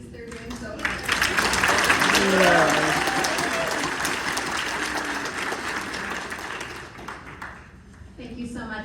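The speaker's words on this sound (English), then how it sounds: "Extra clap for our co-MCs." An audience at a disability legislator forum applauds the co-MCs, a dense, sustained burst of clapping from a crowd that builds and fades over several seconds, with a voice speaking over it near the end.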